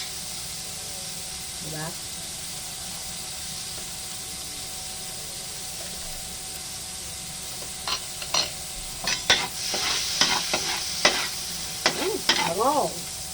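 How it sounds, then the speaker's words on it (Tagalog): Garlic sautéing in melted margarine for a carbonara, with a steady low sizzle and hiss, then scraping and stirring strokes in the pan, with a voice speaking briefly over it. "Habang inaano po natin ang ating margarine, ilalagay na natin ang ating bawang."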